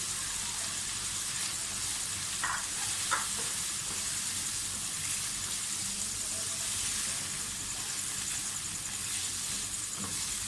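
Tomatoes added to a frying pan with carrots and vegetables for chicken spaghetti, giving a steady soft hiss and sizzle throughout, with a couple of faint clinks early on, fairly quiet and even.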